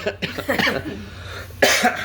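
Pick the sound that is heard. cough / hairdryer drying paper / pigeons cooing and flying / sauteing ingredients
cough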